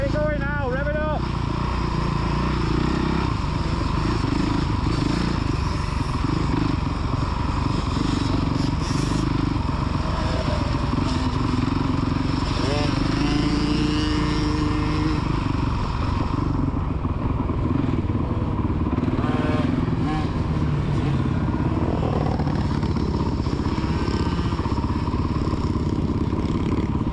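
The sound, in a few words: kids' motocross bike engines revving on track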